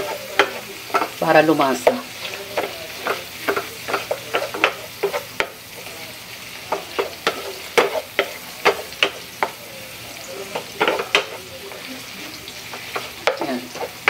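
Tomatoes pressed and sautéed in the same pan used for the garlic sauté, giving repeated sharp scraping and tapping strokes over a low sizzle, close and fairly loud, with a brief spoken word.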